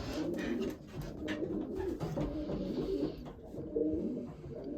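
Racing pigeons coo softly and repeatedly in a loft, several low, rolling calls overlapping close by amid light shuffling.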